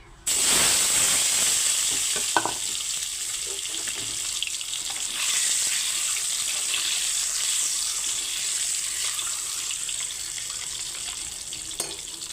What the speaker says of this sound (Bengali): কড়াইয়ে তেল গরম হয়ে গেছে এখন ডিমগুলো ভেজে নিচ্ছি